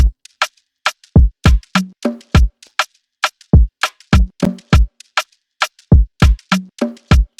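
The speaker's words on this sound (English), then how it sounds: "So the drums sound like this." A programmed Afrobeat drum beat loops with punchy kicks, snappy snares and crisp percussion hits in a syncopated, steady groove, loud and dry with no talking.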